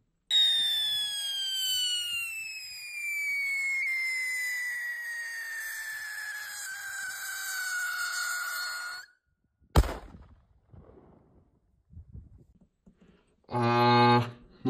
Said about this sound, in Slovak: ono to je petarda, ktorá pred výbuchom zapišti